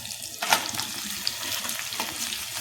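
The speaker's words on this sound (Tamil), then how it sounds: "இது ஒரு 10 நிமிஷம், 10லேருந்து 15 நிமிஷம் வதக்கிக்கோங்க" Ridge gourd peel sautés in a hot pan, giving a soft, steady sizzle with a brief louder stir near the start, close and without talk.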